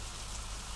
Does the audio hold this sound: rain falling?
yes